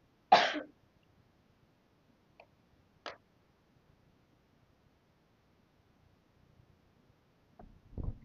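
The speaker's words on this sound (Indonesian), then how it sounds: "Aku batuk dulu ya guys." A single sharp cough close to the mic, followed by a couple of faint clicks and a soft throat noise in an otherwise quiet room.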